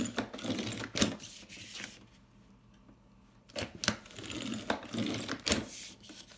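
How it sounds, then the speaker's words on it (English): Paper cutter trimming the edges of a laminated planner folder: a few sharp clicks and sliding blade strokes close by, separated by a brief quiet pause. "I'm gonna cut the edges out with my paper cutter"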